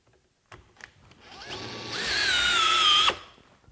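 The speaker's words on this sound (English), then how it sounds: "driving this 6-inch fastener" A Makita GPH01 40V XGT hammer drill driver drives a long 6-inch fastener, its motor whine rising and holding steady for about two and a half seconds under load before stopping abruptly. The sound is close and loud, with no talking.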